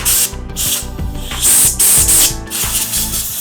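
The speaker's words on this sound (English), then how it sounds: "Blowing out all the nooks and crannies." Loud bursts of compressed air blow through the nooks of disassembled pistol parts, a harsh hissing spray in several close blasts with brief gaps between them.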